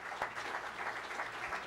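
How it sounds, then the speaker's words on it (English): Audience applause for state representative candidates at a chamber of commerce candidate forum in Marathon, a steady indoor patter of moderately faint clapping. "big round of applause for our state representative candidates"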